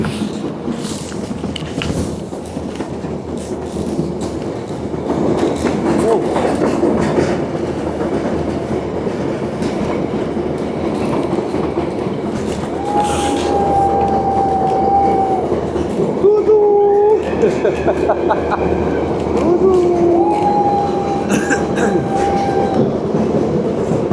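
A 100-year-old train rolls along the rails through a Serbian village, a steady rumble with rhythmic clickety-clack that grows louder, then brief high wheel squeals near the end, with faint voices.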